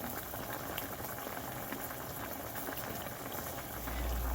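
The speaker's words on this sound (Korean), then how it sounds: "양파, 고추, 파 넣고 끓이기만 하면 돼요" A pot of sardine kimchi stew with onion, chili and green onion bubbling steadily, a soft continuous simmer with a faint low thump near the end.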